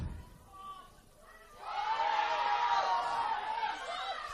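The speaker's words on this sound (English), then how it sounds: "Crowd is calling for a penalty." A football crowd at a 2025 NPL Women's NSW match erupts into a loud, sustained roar of appeals for a penalty, rising sharply after a quieter start with a commentator speaking.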